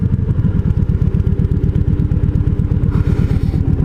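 A motorcycle engine pulses close and loud while riding, a steady rapid thumping rhythm with a slight change in tone near the end.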